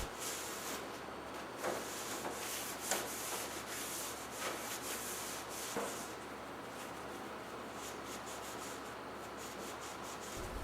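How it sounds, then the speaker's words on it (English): Quiet, continuous rubbing and scrubbing as a go-kart belly pan is cleaned of old paint and dirt with lacquer thinner, with short scraping strokes and occasional louder swipes. "The first step is to wash the belly pan with lacquer thinner."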